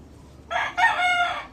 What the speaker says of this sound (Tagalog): Napakagandang manok to.